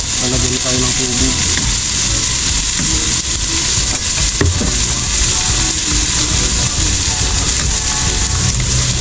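Tomato sauce sizzles and fries steadily in a pan as water is poured in, a continuous close, loud hiss with faint stirring clicks throughout.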